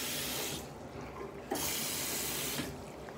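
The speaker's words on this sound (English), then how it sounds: "Working sink." A bathroom sink tap runs in a steady hissing stream, switched off briefly and back on partway through, then cut again near the end, with a faint clunk of the handle; close and alone with no voices.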